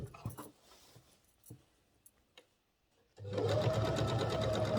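A sewing machine stitches across a collar stand to form the collar seam. Quiet handling noises give way to a loud, steady, close-up whir of the running machine.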